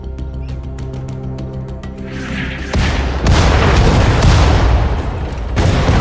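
Howitzer artillery in the Sudden Strike 4 war game at the Battle of El Alamein, heavy booming blasts rolling into a loud sustained rumble, preceded by a rapid train of sharp mechanical clicks.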